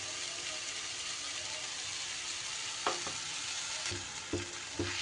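Ground coriander and cumin are stirred in a frying pan for a pumpkin and lentil dhoka curry, giving a steady low sizzle broken by a few sharp utensil knocks toward the end.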